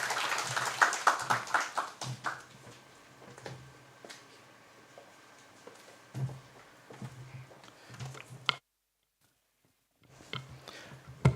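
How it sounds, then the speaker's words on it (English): An audience at a Ugandan working-group annual dialogue claps for the chairperson, with brisk applause at the start thinning into scattered claps, then a short silence before a few more. "Another hand clap to the chairperson"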